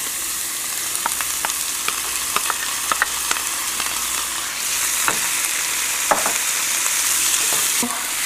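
Yellow capsicum frying in a pan alongside onions, a constant close sizzle punctuated by sharp clicks and scrapes of a utensil stirring, no voices.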